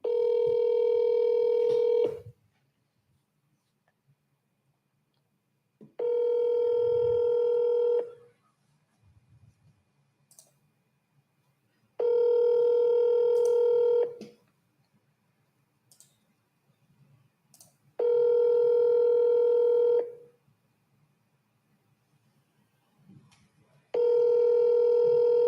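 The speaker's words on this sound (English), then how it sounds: "we always triple dial" A telephone plays a steady ringback tone in five evenly spaced bursts of about two seconds each, separated by quiet gaps, on a call to a seller that goes unanswered.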